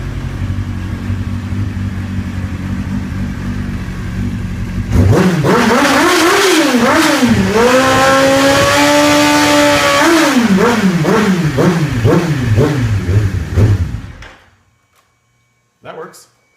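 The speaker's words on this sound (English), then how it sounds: "We're going to give it a little bit of a rev." A 2003 Kawasaki ZX9R sport bike idles, then revs repeatedly in rising and falling surges before cutting off into near silence, close and loud, with a voice briefly audible at the start.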